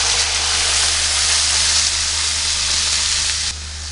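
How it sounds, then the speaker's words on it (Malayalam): Tomato and onion paste sizzles loudly with vegetables in a hot pan for a curry, a steady bright frying hiss that carries on alone and drops a little toward the end. "അരച്ച് വെച്ചിരിക്കുന്ന തക്കാളി സബോള പേസ്റ്റ് ഒഴിച്ച് കൊടുക്കാം."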